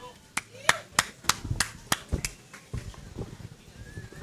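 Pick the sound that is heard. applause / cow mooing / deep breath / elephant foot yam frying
applause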